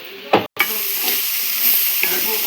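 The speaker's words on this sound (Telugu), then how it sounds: "ఇదైతే మేము సెమీ కుక్ చేస్తున్నాము, డీప్ ఫ్రై లాగా కాకుండా." Sprouted mung beans with ginger and half a spoon of chilli sizzle in a pan, semi-cooked rather than deep fried, a steady close hiss broken by a brief stir and knock near the start.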